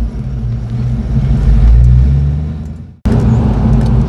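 A 1989 Ford Mustang Fox 5.0 engine with an off-road H-pipe and Flowmasters exhaust rumbles loudly and close, swelling slightly as it revs, cutting out for an instant, then resuming at full volume with no talking.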